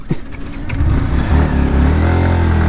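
A motorcycle engine revving up close: a few quick blips, then a loud, sustained rising drone that holds steady to the end.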